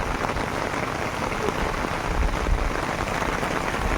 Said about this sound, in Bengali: এখন ঝমঝম করে বৃষ্টি হচ্ছে আর আকাশ পুরো মেঘে ছেয়ে আছে